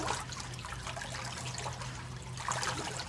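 Water flows steadily into a commercial swimming pool's DE filter tank, a soft, continuous rushing trickle with no pauses, heard at a moderate distance.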